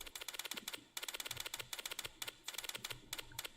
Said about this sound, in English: in this game, they wanted it to sound like a typewriter